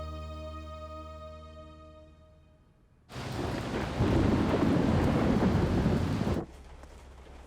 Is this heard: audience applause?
no